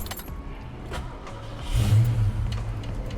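A 1988 Ford Mustang 5.0 with a 5-speed starts up: keys rattle in the ignition, then the engine catches with a low rumble that swells briefly before settling into a steady idle nearby.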